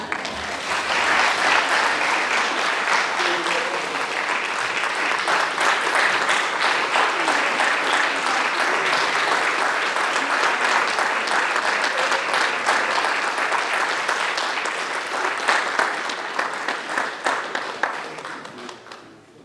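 A crowd at a staff recognition reception applauds a new Hall of Famer, dense sustained clapping that fills nearly twenty seconds before thinning into a few scattered claps at the end.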